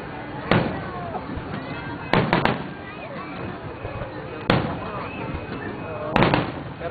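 Roman candle fireworks burst with loud pops at spaced intervals, several in a row, over a constant murmur of people talking nearby.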